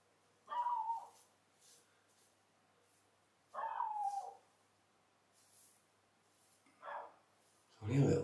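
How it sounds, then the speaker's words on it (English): A small dog next door barks in a few short, separate bursts, each one muffled and somewhat distant, across a quiet room. Long silent pauses fall between the barks, and a louder close sound comes right at the end. "Only a little dog. Oh, he's loud."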